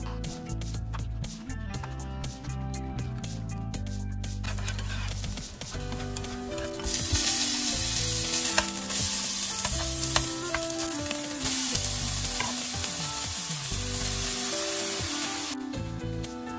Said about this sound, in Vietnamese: Buổi trưa hôm nay mình sẽ làm món thịt băm xào cà tím ăn cùng cơm nóng